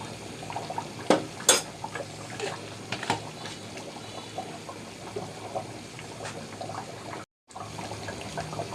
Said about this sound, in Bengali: আগে দিচ্ছি দুই চামচ ঘি চা চামচে